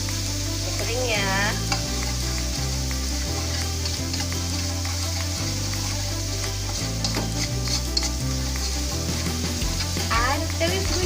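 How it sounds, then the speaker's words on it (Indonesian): Spice paste for Betawi-style green-chili pindang salem frying in a pan while being stirred, with a loud continuous sizzle and scraping utensil sounds. Music plays prominently throughout. "Aduk terus bunda, biar nggak gosong."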